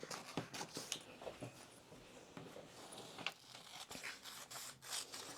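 Scissors cut a paper sewing pattern piece for a summer jumpsuit bodice, close and quiet, with a run of crisp snips and paper rustling rubs.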